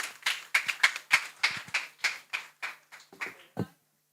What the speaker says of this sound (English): Give them a round of applause, a round of applause, a round of applause.